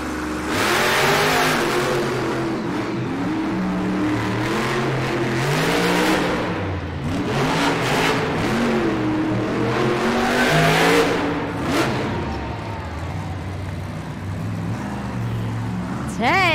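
A Monster Jam monster truck engine revs hard and roars on an arena track, loud and sustained with rising and falling pitch, while an announcer talks over it.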